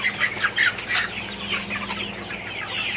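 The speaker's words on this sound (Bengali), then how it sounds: "তো আপনারা দেখতে পাচ্ছেন মুরগিগুলো কীভাবে পানি খাইতেছে।" Broiler chickens cluck steadily while drinking water in a poultry shed, with a continuous chorus of close, overlapping clucks and a low background hum.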